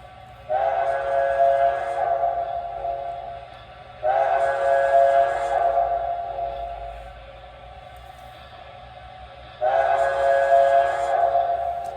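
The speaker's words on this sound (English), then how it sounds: "So a little bit of a higher pitch on the new one for sure." Three long, higher-pitched toots from a new MTH Premier Erie 0-8-8-0 Angus model steam locomotive whistle, rich and reedy, separated by brief gaps over a faint background hum.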